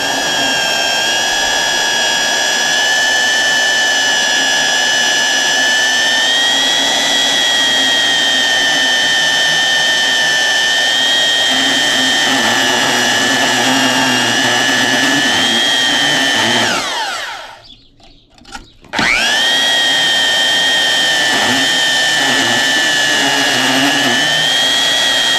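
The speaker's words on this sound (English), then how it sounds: "I'm gonna use my bandsaw." A bandsaw cuts through the metal shells of electric motors, a loud, steady, high-pitched whine and grind that runs continuously, drops out briefly near the end as the cut finishes, then starts again, with no talk.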